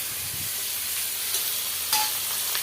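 Onions, tomato and green chilli sizzle and hiss steadily in a frying pan for a fish curry, with a few louder crackles and stirring scrapes as ginger paste goes in.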